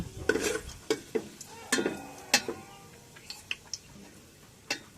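Cumin seeds fry in oil for biryani with a faint, light sizzle. Sharp clicks of a spoon against the pan come irregularly over it, and there is no speech.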